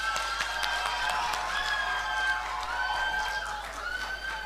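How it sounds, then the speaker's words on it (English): Group of children clapping for themselves in a classroom-style quiz show, a thin scatter of quick, uneven claps running steadily throughout at moderate level, with no voices over it. "Clap for yourself"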